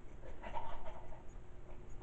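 A person imitates a dog with panting, whimpery breaths and soft vocal yelps, a brief, fairly quiet burst alone without other talk.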